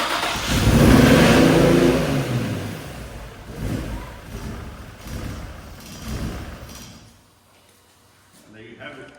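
A fully built twin-turbo VQ engine fires up for the first time, a loud, rough roar that swells then settles into uneven revving and fades near the end, with voices talking over it.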